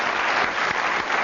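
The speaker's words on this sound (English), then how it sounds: "Well, give a round of applause." A quick, steady round of applause from an audience fills just over a second.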